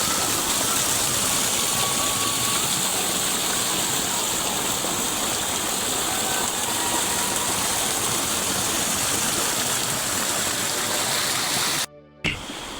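Nandanchua waterfall roars in a dense, constant rush of falling water, loud and close, with no pause until a brief handling bump near the end.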